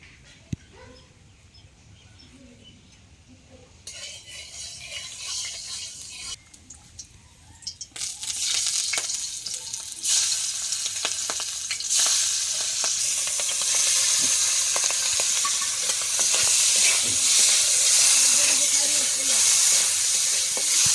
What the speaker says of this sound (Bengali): সবার প্রথমে চিংড়ি মাছগুলো ভেজে নেবো